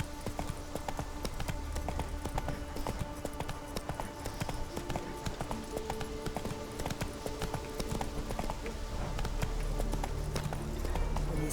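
Horse hooves gallop in a steady, continuous clip-clop rhythm throughout The Witcher 3, loud and close over game music and ambient background.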